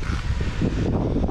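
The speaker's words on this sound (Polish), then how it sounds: "ale wiatrzysko, co?" Strong wind roars in a steady broadband rush, loud and close, buffeting the microphone outdoors with no talk.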